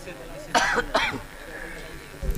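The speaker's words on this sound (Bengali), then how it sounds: "আগরবাতি এখন আর দিও না ওইটা আমার কাশি আসে" A person near burning incense gives two harsh, close coughs in quick succession, followed by a quieter throat-clearing rasp, with some speech nearby.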